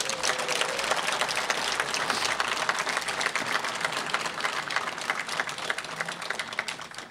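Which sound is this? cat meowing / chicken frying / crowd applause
crowd applause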